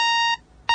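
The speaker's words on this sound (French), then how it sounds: "le réveil va sonner très tôt" An alarm clock rings with a steady electronic tone that stops briefly, then starts up again, loud and close in a quiet bedroom at night.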